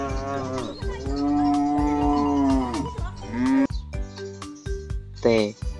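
A cow moos in a long, loud, drawn-out call, then lets out a shorter second moo near the end, set against light background music in an animal-sounds alphabet lesson.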